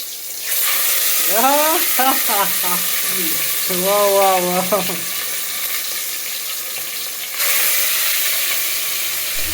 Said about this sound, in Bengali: কিছুক্ষণ পর তেলটাও হিট হয়ে গেল, মাংসটা ভেজে নিতে শুরু করলাম।